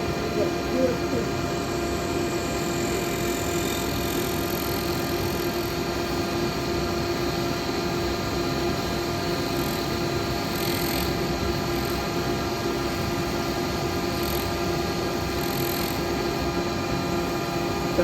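A woodturning lathe cuts a yew lidded pot with resin and burr inlay using an R2 cutter, giving a steady, continuous whirring drone with faint scraping texture throughout, fairly close and unbroken.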